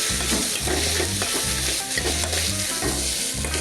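Ginger and garlic sautéing in a pan for a hotel-style potato masala, a loud continuous sizzle of frying with stirring scrapes running throughout, close and without any talk.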